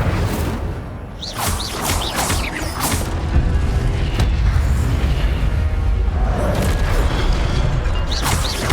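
Incendio fire spells cast repeatedly in Hogwarts Legacy, heard as a series of whooshing, booming bursts over a dense, continuous bed of crackling combat noise.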